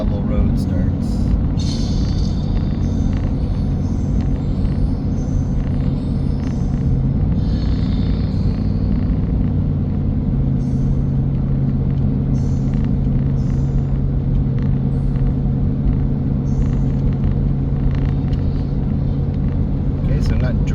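A car climbs a hill on a paved rural road near Cross Ranch State Park, heading toward where the gravel begins, with a steady close engine rumble and road noise running throughout without a break.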